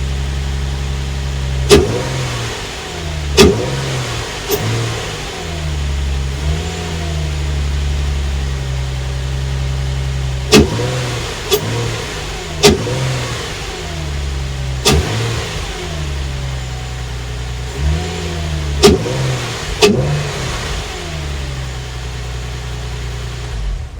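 A Nissan 350Z engine fitted with a Mishimoto performance intake idles and is revved repeatedly in short sharp bursts, each rise falling back to a steady idle, loud and close, with clear intake noise.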